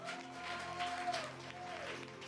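Congregation in a church applauding and cheering, a fairly faint, steady patter of clapping with crowd noise beneath sustained organ or keyboard tones.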